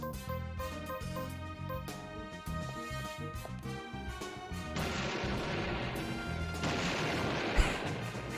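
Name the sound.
rocket launcher firing and explosion in video game Deadly Premonition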